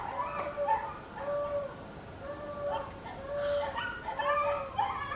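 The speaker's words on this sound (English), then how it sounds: "My neighbor's dog." A neighbor's dog whimpers and whines in a string of high, drawn-out cries with short yips between them, heard from a moderate distance and repeating throughout.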